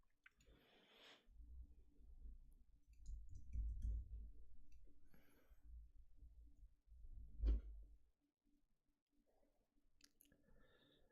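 Computer keyboard being typed on while entering a password, faint, scattered clicks and taps in short clusters with quiet pauses between them, no voices.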